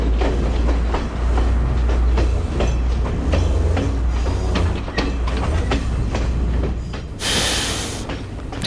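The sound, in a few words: Sri Lanka Railways train from Kandy to Ella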